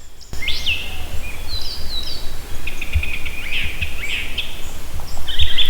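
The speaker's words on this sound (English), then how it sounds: "All those different wildlife, birds and chirping" Several birds chirp and trill outdoors on public land, high bright calls coming in short bursts over a soft background of outdoor ambience, with no talking.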